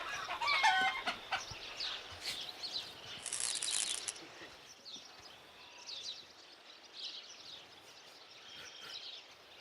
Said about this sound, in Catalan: Quin soroll a ocellet que fa.